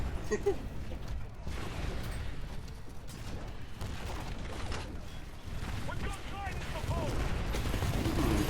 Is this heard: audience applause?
no